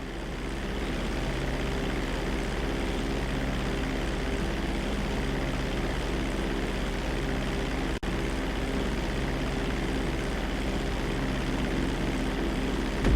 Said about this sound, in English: Hold the throttle all the way down to pick up speed, and pull back on the stick to take off.